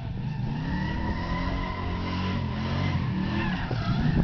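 A car doing a burnout and donuts on a track, a sustained loud engine roar with continuous tire squeal and shifting revs, heard steadily for a few seconds at close range.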